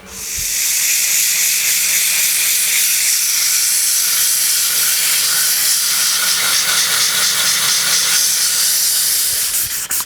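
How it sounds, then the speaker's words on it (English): Purple heart wood BBQ handle being sanded to 240 grit with a power sander, giving a loud, steady, close hissing whir that runs unbroken for about nine seconds with no speech. "I'm going to sand this to 240 grit"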